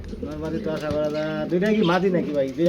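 Pigeons at a bird market coo in low, throaty, rolling calls close by, with human voices mixed in.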